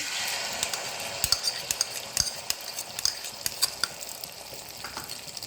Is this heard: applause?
no